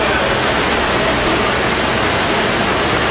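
Water runs steadily into an electroplating rinse tank, a continuous close rushing and splashing with no pauses and no voices.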